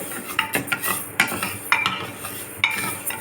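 Moong dal dry-roasting in a hot pan while a spoon stirs and scrapes it, giving repeated close, crisp scraping strokes in an uneven rhythm with no talking.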